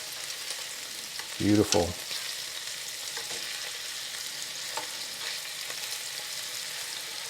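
Scallops sear in brown butter in a hot pan with a steady, close sizzle and frying hiss. A brief clunk of the pan being moved breaks in midway, and a voice speaks a single word over the cooking.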